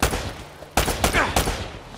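Rapid gunfire from the video game Uncharted: Drake's Fortune: three loud, sharp bursts come close together over a constant low hum of background action.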